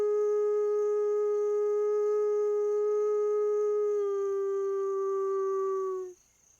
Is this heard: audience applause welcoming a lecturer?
no